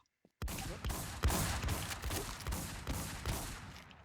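Video game gunfire begins after a short silence and keeps going as rapid, regularly spaced shots, loud and close, with each burst punching through a thick rolling din.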